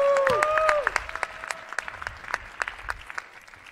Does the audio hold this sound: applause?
yes